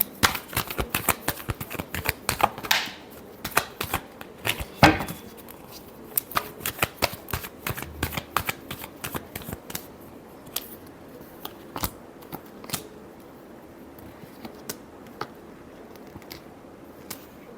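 Tarot cards being shuffled by hand in a long run of crisp, rapid riffles and slaps, close and fairly loud, with bursts that thin out into scattered single flicks toward the end.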